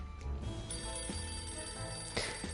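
A telephone ringing in a video game, a continuous electronic ringtone trilling steadily and fairly loud over background game sounds, with no voices.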